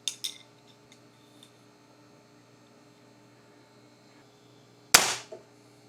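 A crossbow looses a bolt from a jon boat, with brand new strings under tension, giving one sharp loud snap and a short rattling decay near the end after quiet, with faint knocks at the start.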